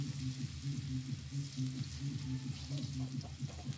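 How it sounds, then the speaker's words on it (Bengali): Hilsa fish sizzle in hot oil in a wok, a steady moderate frying hiss with no talking. "আমি এখন কড়াইতে তেল দিয়ে মাছগুলো ভেজে নিতেছি।"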